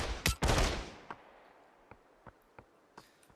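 A two-shot shotgun fires in the VR game Population One: two sharp, loud blasts in quick succession, followed by a trail of faint, scattered clicks and taps as the blasts fade.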